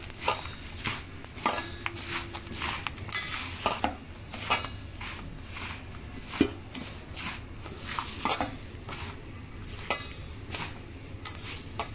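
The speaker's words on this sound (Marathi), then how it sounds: "खजूर शेवटी टाकूया आणि सगळं मिक्स करूया." A spoon stirring and scraping dates into methi laddoo ingredients in a pan, with irregular metallic clinks and scrapes, close and busy, and no voices.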